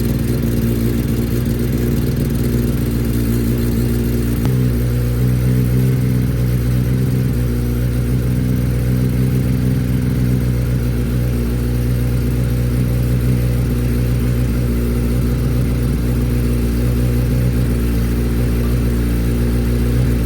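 A Kawasaki ZX10R sportbike engine runs steadily, idling after its first service for an oil leak, a loud continuous low rumble with an even drone and slight fluctuations throughout, no talking.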